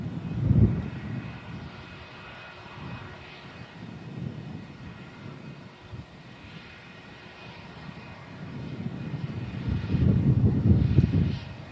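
A Finnair Airbus A321 taxis at Manchester Airport, a steady low jet-engine rumble at a moderate distance that swells louder near the start and again toward the end, with faint wind and no speech.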